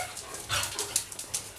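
Several dogs bark in a short burst of sharp yaps and yips, a handful of quick barks over about a second, moderately close.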